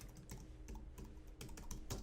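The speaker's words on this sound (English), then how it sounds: "I'm using a keyboard I'm not used to. So I'm going to be a little bit button mashy today." Quiet, rapid clicking of keys on a computer keyboard, with irregular bursts of presses and a few heavier taps, close and alone without talk.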